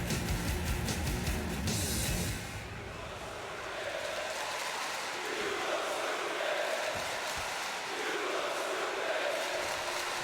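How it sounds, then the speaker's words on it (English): Wrestling crowd in WWE 2K20 chanting at Sheamus, a steady broad roar of many voices throughout, louder for the first couple of seconds and then continuing as a sustained arena din. "you hear the crowd talking to Sheamus, saying you look stupid"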